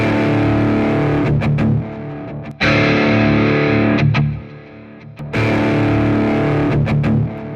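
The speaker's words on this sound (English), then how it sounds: "Using that master distortion." An electric guitar run through a master distortion pedal chugs out thick, loud distorted chords in a rhythmic pattern, with abrupt stops and restarts between phrases.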